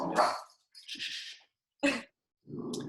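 A pet dog barks at a mail delivery at the door, giving several sharp, separate barks and yips with pauses between them, fairly close and loud, with no talk over them.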